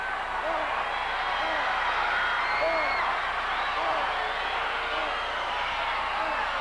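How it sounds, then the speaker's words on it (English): Crowd at a 1986 Mid-South Wrestling arena event roaring steadily throughout, a dense continuous wash of cheers and shouts with scattered whistles and whoops, loud and sustained with no break. "Listen to the crowd."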